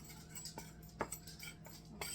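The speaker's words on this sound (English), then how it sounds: "I'm just going to stir it and mix it together." A spoon clinks and scrapes against a mixing bowl as oatmeal chocolate chip cookie ingredients are stirred together. A few soft, separate taps sound up close and quiet.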